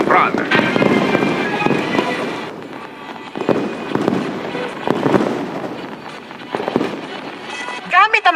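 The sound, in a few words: New Year fireworks display in Ras Al Khaimah, UAE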